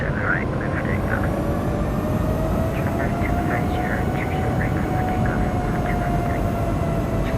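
A simulated Boeing 737 MAX 8 jet in X-Plane 11 rolls for takeoff under a steady, loud engine roar with a rising whine, and voices talk over it.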